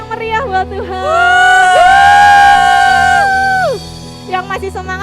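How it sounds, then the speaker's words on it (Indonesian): Children at an online Sunday school worship service cheer and whoop with a crowd swell, while sustained sung or shouted tones rise over the noise, and voices chatter before and after. "Kasih tepuk tangan yang meriah buat Tuhan."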